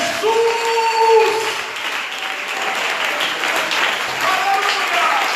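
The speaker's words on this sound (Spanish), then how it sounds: "Den un aplauso al gran sumo sacerdote llamado Jesús." Applause from a church congregation during a sermon, steady dense clapping throughout, with shouted voices and cheering layered over it.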